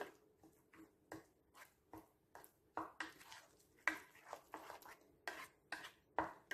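Banana fritter batter being mixed in a bowl, with a spoon clinking and scraping against the sides in a steady run of about a dozen close, moderately loud strokes, no voices.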